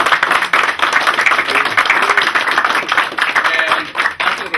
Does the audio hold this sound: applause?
yes